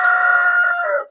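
A rooster crows once in a chicken coop housing nine hens, giving a loud, close, drawn-out call that tails off sharply into silence.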